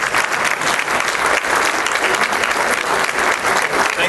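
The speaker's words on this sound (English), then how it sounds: "let's give them a round of applause" Loud, dense audience applause at a Navy League military and youth awards ceremony, sustained, close and even from start to finish with no talk.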